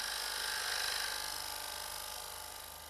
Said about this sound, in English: To achieve a much finer finish, we are going to use a high-speed steel cutter, the square one.